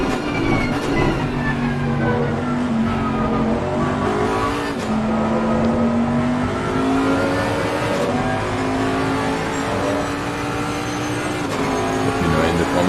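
Engines of GT race cars in a racing video game at Zolder roar continuously and loudly, pitches rising and falling through gear changes over a dense, steady mechanical drone.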